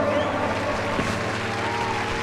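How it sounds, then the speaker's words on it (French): Podcast studio audience applauding a guest's entrance, steady sustained clapping over a low tonal hum, with a faint voice briefly audible in the mix. "Mesdames et messieurs, applaudissements."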